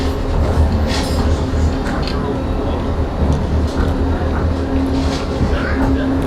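Inside a moving European passenger train, a steady loud rumble and rattle of the carriage runs without a break, with a hum and faint squeaks on top.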